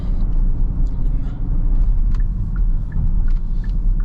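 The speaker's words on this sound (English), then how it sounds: "now with this V6 and this only being a front wheel drive drivetrain, got to be careful because you do get a little bit of torque steer there" A 2024 Kia Carnival SX minivan with a V6 engine and front-wheel drive pulls under acceleration, giving a steady, loud low engine and road rumble that runs without break from start to end.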